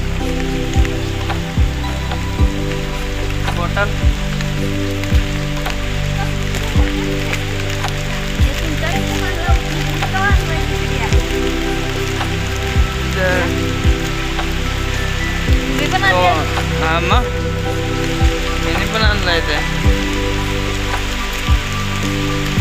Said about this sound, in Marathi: आता पाऊस पण लागलाय हे बघा पाणी हे बघा पाऊस लागलाय